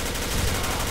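M4A1 rifle fire in the shooter game Arctic Combat, a loud, dense burst of rapid shots filling the moment at close range.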